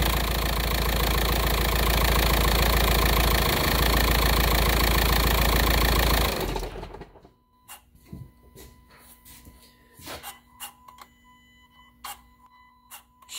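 A 2006 Volkswagen Jetta TDI diesel engine idles loud and steady with a dense clatter for about six seconds, then shuts off, leaving quiet ticks and scattered clicks from the engine bay.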